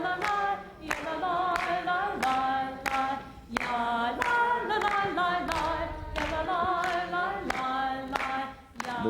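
A group of people claps hands in a steady, even rhythm along with sacred cantor music, sharp claps sounding over sung tones throughout.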